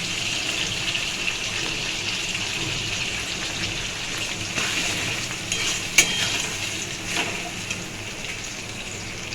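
Tomato and capsicum frying in a pan give a continuous soft sizzle, like light rain, with a few sharper stirring knocks partway through and no voices.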